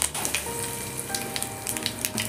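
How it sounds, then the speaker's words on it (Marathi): Spices for a Maharashtrian potato bhaji tempering in hot oil in a kadhai, giving a steady close sizzle broken by sharp, irregular crackling pops. "बघा, मस्त फोडणी तडतडलेली आहे"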